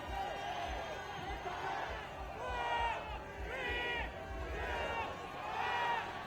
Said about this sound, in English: The crowd cheering her on